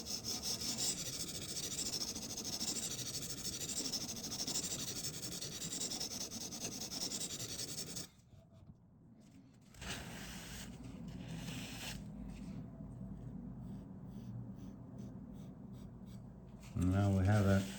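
A knife edge drawn across a CBN sharpening stone, heard as a steady close gritty rasp that pauses briefly and resumes in repeated strokes, ending with a louder scrape.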